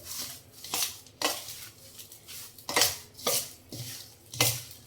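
A spoon stirs mixed achar pickle in a metal pot, knocking and scraping against the sides in regular strokes roughly every half second, close and moderately quiet.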